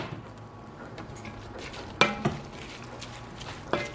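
Sliced squash and zucchini tipped into a pan of cooking meat for an unstuffed pepper bowl, giving a couple of sharp clatters and a light scrape over a soft, steady sizzle, close and fairly quiet.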